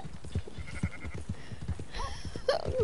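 A sheep bleats in a PS4 video game, short wavering cries standing out near the end over a busy mix of footsteps, clops and game noise, with a few brief bleats earlier.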